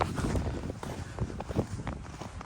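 Footsteps crunching on freshly fallen soft snow at Sapporo Kokusai Ski Resort, a quick run of soft, close crunches over a couple of seconds, with faint wind and no talk.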